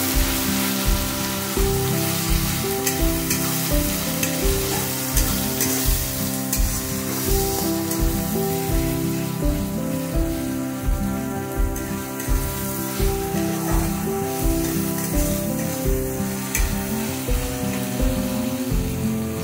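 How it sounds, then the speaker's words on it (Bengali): A masala of tomato, coriander powder, turmeric and salt sizzles loudly in a pan for a pomfret dish, stirred with a steady rhythm of scraping strokes that repeat under a continuous frying hiss. "দিয়ে মশলাটাকে ভালো করে নাড়িয়ে চাড়িয়ে দেবো।"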